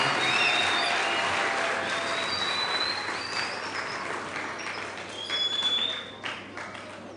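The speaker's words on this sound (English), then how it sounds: "Give him a round of applause." An audience at a school ceremony at Grantley Adams Secondary breaks into applause, a dense patter of clapping that carries on steadily and then thins slightly toward the end, with faint voices mixed in.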